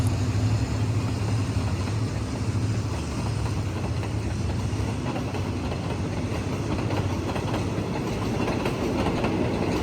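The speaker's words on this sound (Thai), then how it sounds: "รถจักรทำขบวนเป็นฮิตาชิหมายเลข 4521 นะครับ" Train hauled by Hitachi locomotive number 4521 passing in the rain, a loud continuous rumble with rhythmic clickety-clack of wheels and engine drone throughout.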